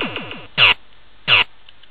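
Sound effects from an original 1980 Williams Defender arcade sound board: a few rapid falling chirps, then two short harsh bursts of noisy tone about half a second apart, loud and close with no voices.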